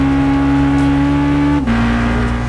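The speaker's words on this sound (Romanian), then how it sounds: "Chiar și mașinile standard au efecte sonore spectaculoase atunci când accelerezi" Car engine accelerating in Gran Turismo 5, a loud close engine whine climbing steadily in pitch, then a brief dip at a gear change before pulling on again.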